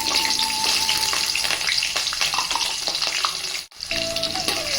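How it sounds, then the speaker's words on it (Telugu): Green chillies, garlic and onion fry in hot oil in a home kitchen pan, giving a steady, loud crackling sizzle. The sizzle runs the whole time, with faint stirring and brief tonal whines over it and one short dropout near the end. "ఇప్పుడు మనము పచ్చిమిర్చి ఎల్లిపాయలు ఉల్లిగడ్డ వేసుకోవాలన్నమాట"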